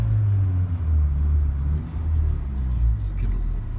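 A 2015 Mercedes-Benz GLA 45 AMG with about 41,678 miles idles with a steady, deep low rumble close by, holding an even drone with only slight dips in level and no talk over it.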